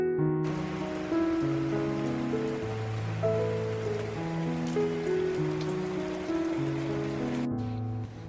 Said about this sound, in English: watching the rain fall down on this spring day